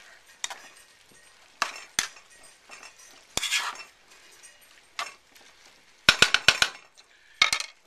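Sausage being stirred into a cooking pan: a spoon scrapes and clinks against the metal in sparse, uneven knocks, with a quick cluster of sharp taps near the end.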